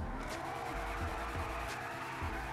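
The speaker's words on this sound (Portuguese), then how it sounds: "Temos aqui um Lamborghini, eu não sei se pronuncia, é um Lamborghini customizado do Neymar" A customized Lamborghini in GTA 5 roars with a steady engine drone while its tires skid and squeal in short bursts, loud and close throughout.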